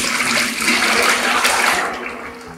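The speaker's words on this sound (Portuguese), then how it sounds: "Só que assim, ele pinga porque a gente não deixa virar bem o balde" Liquid homemade soap mixture pours from a bucket in a loud, continuous gushing splash that tapers slightly at the end, with no speech over it.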